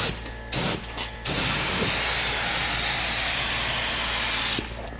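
A spray gun lays paint on a junkyard Cadillac in a loud, hissing burst, with two short spurts first and then a long continuous spray before it stops.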